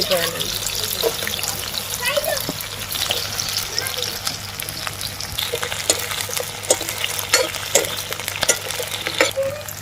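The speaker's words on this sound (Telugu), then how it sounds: "ఈ రెండు కూడా నూనెలోనే మంచిగా మగ్గాలండి. అలానే సిమ్లో పెట్టి కలుపుతూ ఉండండి" Garlic sizzling steadily in hot oil on low heat while a spoon stirs and scrapes the pan, with occasional clinks over the continuous frying hiss.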